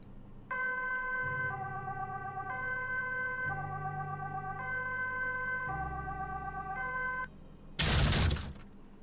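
A wailing two-tone emergency siren repeats steadily for about seven seconds with a low rumble beneath, then cuts off and gives way to a short loud crash like a door being broken down.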